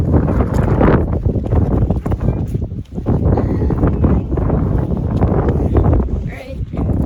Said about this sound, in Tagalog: Hangin man kaayo.